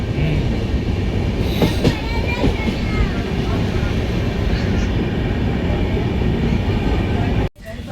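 A train rolls along after leaving Delhi Sarai Rohilla station, with a steady loud rumble and rattle of the carriages heard from inside, broken by a brief dip near the end.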